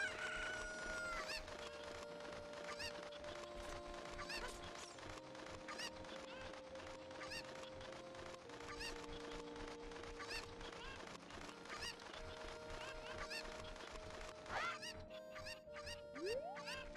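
Cucco chickens from The Legend of Zelda: Ocarina of Time on N64 cluck and crow over and over, a busy, dense swarm of game fowl calls that runs loud and continuous the whole way through.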